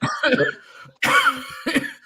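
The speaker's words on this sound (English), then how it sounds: "once I get a cough, dude, it lasts forever" Three harsh coughs from one nearby person, the first a double burst, each separated by a short pause, with no talking.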